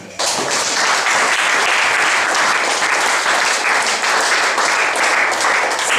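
A church congregation applauds loudly and steadily throughout, dense continuous clapping from many hands filling the space, with a few cheers under it and no clear speech.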